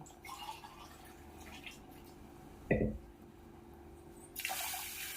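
Water pours and splashes into a pressure cooker near the end, after a short clunk and quiet kitchen noise.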